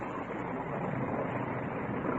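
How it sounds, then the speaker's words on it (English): Rain and wind sound effects from an old radio drama make a steady broadband hiss and rush, moderately faint and unbroken throughout, with no distinct thunder clap. "Rain's starting, man. Windy."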